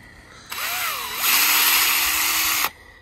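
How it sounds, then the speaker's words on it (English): A power drill whirs steadily into a maple tree for tapping, its pitch rising partway through and holding a loud, high whine for about two seconds before cutting off. "reversing it, the drill, kind of pulls all the wood shavings out"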